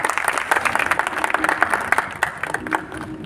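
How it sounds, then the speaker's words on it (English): A crowd applauding with dense, steady clapping that continues throughout, fairly loud and close. "Can we please have a round of applause?"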